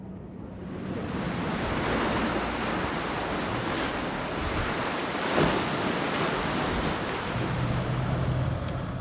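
Ocean waves rolling against the shore along the Puglia coast where fishing vessels pass, a steady broad wash of surf with wind noise, loud and continuous throughout with no talk.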